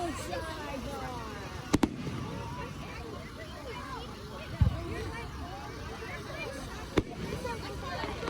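Fireworks at a food truck festival, three sharp distant bangs spaced a few seconds apart over steady crowd murmur and ambient noise, with people talking nearby.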